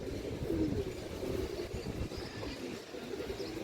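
Soft pigeon cooing at close range, a few low throaty coos over a quiet background, with no talk.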